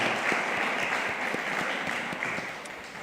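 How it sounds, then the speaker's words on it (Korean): Quieter, even applause from the congregation at a Korean church's Sunday service in Rome, with steady clapping that softens slightly toward the end and no speech over it. "격려 박수 한번 부탁드립니다."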